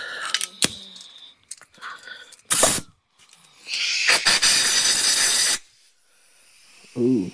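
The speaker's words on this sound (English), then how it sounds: "I'll make sure and blow the bowl out." Compressed air blasts through the carburetor float bowl of a Kawasaki Bayou 300 ATV in short sharp bursts and then a longer sustained hiss, loud and close, separated by clicks and handling noises.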